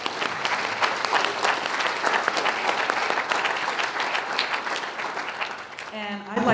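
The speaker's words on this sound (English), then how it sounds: "So let's applaud." Sustained applause from a large crowd, steady and dense clapping throughout, with a brief voice near the end.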